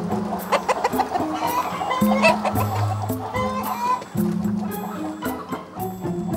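Many hens clucking together in a busy chorus, short repeated calls overlapping, fairly close and steady throughout.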